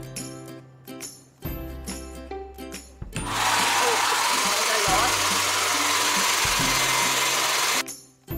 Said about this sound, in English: Now at first I'm gonna use this cold mode to dry most of my hairs.